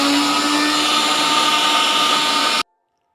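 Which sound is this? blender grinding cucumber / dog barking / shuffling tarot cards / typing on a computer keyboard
blender grinding cucumber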